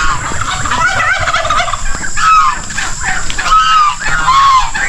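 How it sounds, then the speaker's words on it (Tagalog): Turkeys gobble repeatedly in a loud, rippling chorus, several birds calling close by over steady background noise. "Ayan, ah, mga pabo natin."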